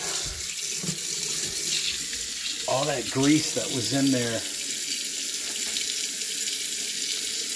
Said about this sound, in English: So let me shut off the water.